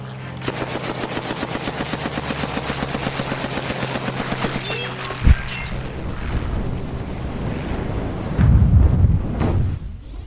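In a dramatised scene, a machine gun fires on an air-traffic control window and fuel tanks. Rapid, evenly spaced bursts of fire last about five seconds, followed by a sharp crack and then a loud, rumbling blast.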